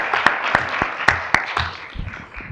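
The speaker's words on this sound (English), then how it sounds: "All right, another round of applause." A handful of sparse, separate hand claps ring out in a board meeting room, a thin and short-lived round of applause rather than a full ovation, fading quickly.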